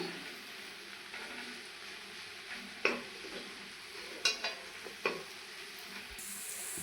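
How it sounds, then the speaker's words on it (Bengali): Onion paratha ingredients with a couple of spoons of gram flour are mixed together in a bowl, with soft continuous scraping and a few sharp clinks of a utensil against the bowl, no talking. "এখন আবার ভালো করে মিলিয়ে নেব।"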